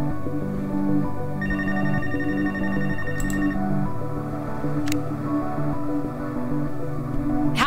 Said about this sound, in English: Now the phone calls.